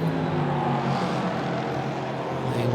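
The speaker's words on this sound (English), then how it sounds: "So the Evo version of the Audi, with that distinctive 4-cylinder engine note." The four-cylinder engine of an Audi Evo race car at the Hankook 24H Portimão 2022 endurance race holds a steady, buzzing harmonic drone, fairly loud and continuous as it runs past on the circuit.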